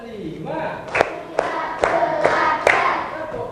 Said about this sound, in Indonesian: Tepuk 1, tepuk 2, tepuk 3, tepuk 4, Lagi. tepuk 5